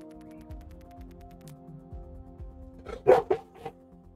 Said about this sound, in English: You want to go bark at somebody?